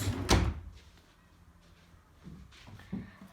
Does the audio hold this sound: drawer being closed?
yes